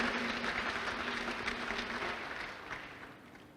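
Audience applause at a pledge-taking ceremony for successful candidates, a steady wash of clapping that fades slightly toward the end, moderately quiet and without speech.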